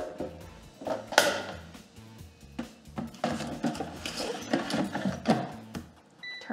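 Basket slid into the outer basket of a Cosori air fryer, giving close plastic clatters and scraping knocks with a sharp click near the start and more rattling thumps afterward.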